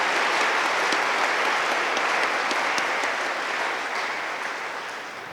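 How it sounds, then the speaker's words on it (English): Commencement audience applauding at an undergraduate graduation ceremony, a dense, steady wash of clapping from a large crowd that holds strong throughout and tapers slightly toward the end. "One more round of applause, please, for all those people who made it possible for the graduates to be here today."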